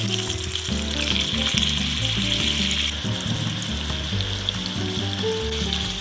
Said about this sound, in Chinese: 煎至焦黄就可以翻面了